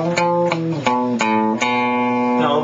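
An electric guitar plays an outro riff, a series of clear picked notes and a strum at an even, moderate rhythm, close and alone.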